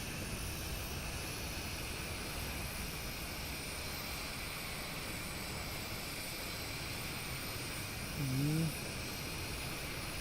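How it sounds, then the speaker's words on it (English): Falcon 50 business jet engines spool in a flight simulator, a steady, quiet, continuous whine and hum that holds even throughout, with one brief voice near the end. "Listen to the engine spooling."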